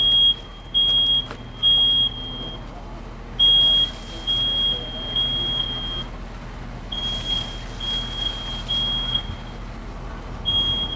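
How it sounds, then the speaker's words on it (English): A smoke alarm sounds during a live burn demonstration at a fire service convention, giving repeated high, piercing beeps in an uneven on-off pattern over a steady background rumble of equipment and crowd noise. "Notice you can still hear a smoke alarm going off."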